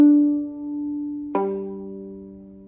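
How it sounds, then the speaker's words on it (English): A single string is plucked pizzicato, ringing with a clear sustained tone, then a second pluck lands at a different pitch and decays slowly, close and solo. "I want you to see if you can see the string actually vibrating when I pluck it."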